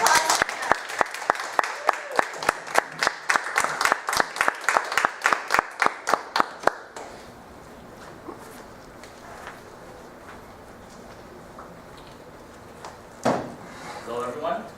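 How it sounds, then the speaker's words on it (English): An audience at a Toastmasters club meeting applauds for a speaker, with sharp, rhythmic, close claps for about seven seconds, followed by quieter room sounds and brief talk. "Everybody, a round of applause."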